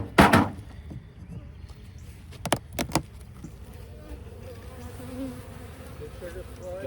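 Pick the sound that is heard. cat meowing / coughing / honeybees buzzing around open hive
honeybees buzzing around open hive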